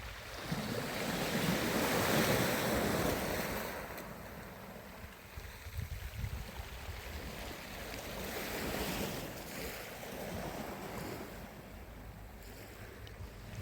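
Sea waves breaking on rocks along an unspoiled coast near the small town of Roseto Capo Spulico, a continuous wash of surf swelling and ebbing with some wind buffeting the microphone, no voices.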